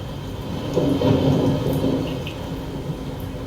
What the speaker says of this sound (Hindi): उसी तरह मेघ गरज रहे, वैसी वर्षा हो रही है